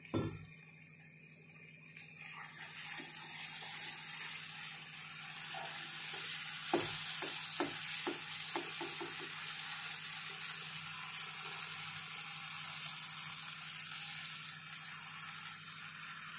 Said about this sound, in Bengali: ভালো করে কষিয়ে নিয়েছি, মশলা থেকে তেলটা ছাড়ছে।